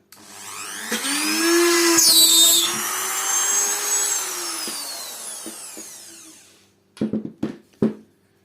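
An INGCO MG 2008 mini rotary tool whirs up to a high, steady whine for several seconds while drilling, then winds down, followed by a few sharp knocks.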